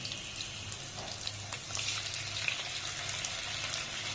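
Chicken, marinated beforehand with salt, frying in a pan with a steady low sizzle and crackle throughout, some faint light clinks over the hiss, no talking.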